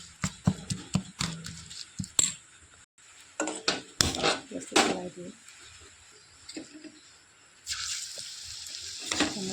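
Neem leaf fritter batter with chili powder and cumin gets mixed in a bowl: irregular clinks, scrapes and wet stirring knocks, close and clear, with quiet pauses between bursts.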